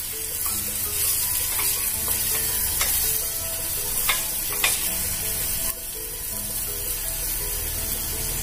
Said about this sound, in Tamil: வெங்காயம் கொஞ்சம் வதங்கட்டும். வதங்கின பிறகு நம்ம பச்சை மிளகாய் ஆட் பண்ணிட்டேன்.